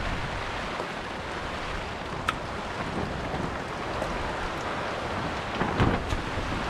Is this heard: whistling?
no